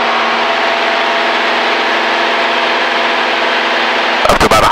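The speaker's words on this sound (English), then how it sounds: "lower that nose and let her speed up before you bring the throttle back" A Cessna airplane engine drones steadily and loudly in flight, a constant even roar from inside the cabin that continues unbroken until a brief burst of rattling near the end.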